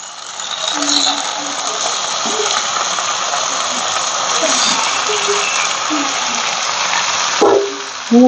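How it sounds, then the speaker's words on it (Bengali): Chicken pieces hit hot oil in a pan with tomato, giving a loud, continuous hiss and sizzle that holds steady for several seconds, with a few clatters near the end. "মাংস তেলে পরে এটা আওয়াজটা এত সুন্দর আছে"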